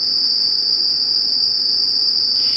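A steady, piercing high-pitched tinnitus ringing, simulated as constantly heard by a former club DJ with hearing damage, holds one unbroken tone over a faint low hiss for the whole stretch, loud and alone.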